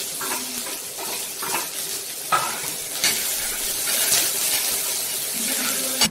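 Chopped onion dropped into a pan of oil reused from frying papad, sizzling steadily with stirring scrapes and a few sharp clatters, close and fairly loud, no talking.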